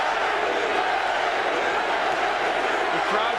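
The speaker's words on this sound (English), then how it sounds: "The crowd chanting Larry Holmes' name for all of Butterbean's popularity" Boxing arena crowd chanting Larry Holmes' name during his bout with Butterbean, a dense, steady roar of many voices filling the whole stretch without break.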